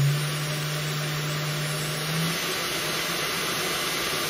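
Cooling fan mounted on top of a DIY CNC router spindle spinning at high RPM, blowing air with a steady, close whirring hum; a low tonal drone underneath fades out partway through.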